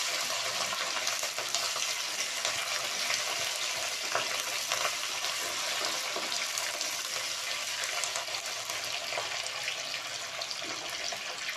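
Chopped vegetables fry in hot oil in a pan, giving a steady, even sizzle throughout, with a few soft knocks from stirring.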